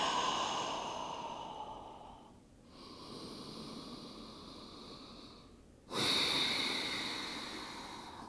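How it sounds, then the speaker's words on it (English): Slow, deep breaths are taken in child's pose during a gentle yoga flow: a long airy exhale, a pause, another sustained breath, then a sharper inhale, close and quiet with no talk. "Taking a few deep breaths here."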